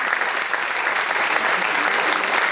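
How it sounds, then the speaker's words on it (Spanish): An audience at a bolero music night applauds the musicians with dense, steady, loud clapping that fills the room throughout, with no break. "Quiero que le dé un aplauso a los extraordinarios músicos que tenemos en aquella esquina."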